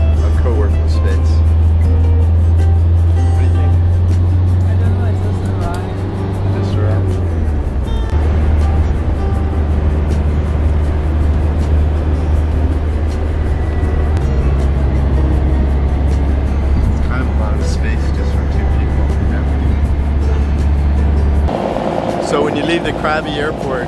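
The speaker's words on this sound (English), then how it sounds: "now we're in a private van going to Koh Lanta" A private van riding from Krabi airport toward Koh Lanta in Thailand. A steady low engine and road drone runs throughout, with a shift in pitch partway through, and voices faintly in the cabin.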